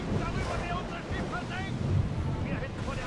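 Stormy wind and crashing sea waves around a sailing ship in Assassin's Creed Odyssey, a dense, steady roar of gusts and surf that stays loud and continuous throughout.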